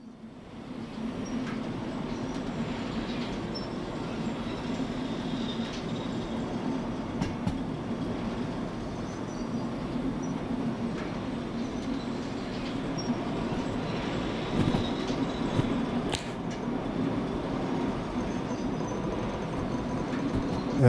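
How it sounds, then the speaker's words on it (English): A long freight train rolls steadily through the video game Derail Valley, a continuous loud rumble of wheels on rails with occasional squeals and clanks, sustained throughout. "Look at my train. That is a goddamn long train."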